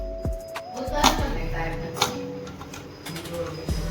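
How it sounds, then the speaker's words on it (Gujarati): A knife chops through onion on a board in a home kitchen, a few sharp, irregular knocks spaced apart, close and clear, against faint background noise. "આવી રીતે તમે ડુંગળી કાપી શકો."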